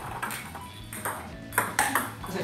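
Table tennis backhand flicks produce a few sharp, crisp ball impacts in quick succession, close and fairly loud over steady room noise.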